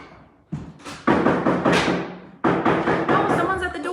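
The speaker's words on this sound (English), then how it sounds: "He's gonna knock on the door." Someone knocks on a house door with a few heavy, separate thuds spaced about a second apart, each followed by a noisy burst of activity nearby.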